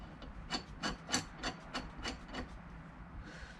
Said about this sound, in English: Screw that one in like that.